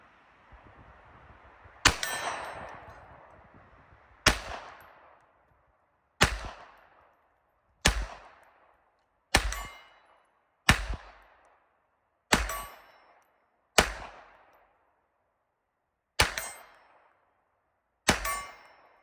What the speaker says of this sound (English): We're gonna shoot this at distance.